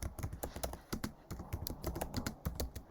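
Rapid, uneven keystrokes clatter on a computer keyboard while a Docker image is built, close and fairly loud, with short clusters of clicks and tiny pauses throughout.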